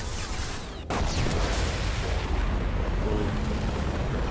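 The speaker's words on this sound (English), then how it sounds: "The thermal explosions." Thermal explosions in the video game Mass Effect: Legendary Edition: a sharp blast followed by a long, loud rumbling roar of debris and fire that fills the clip without any talk.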